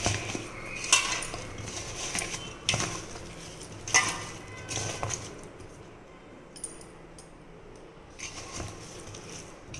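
Mango pickle and oil being stirred in a metal vessel: scraping clinks and knocks of a spoon against the pot, several louder strikes early, then quieter stirring, close up with no talking.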